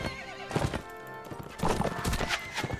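Horse hooves clop and gallop in Mount and Blade Warband amid battle, with whinnying and repeated close, loud hoofbeats in irregular bursts.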